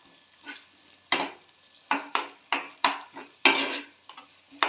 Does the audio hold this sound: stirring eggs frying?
yes